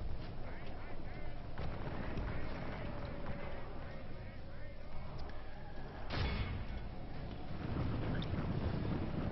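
Distant artillery booms in Medieval 2 over a steady windy rumble, with a couple of sharper blasts standing out from the continuous battle noise.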